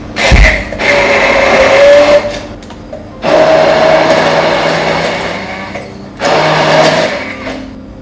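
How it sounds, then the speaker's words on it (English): A blender whirs loudly as it purees muhummara with pomegranate molasses, running in three strong bursts with short pauses between, close and with no voice. "Okay, and then you just blend it."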